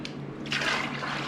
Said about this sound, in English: we need to thin the paint down, put in some water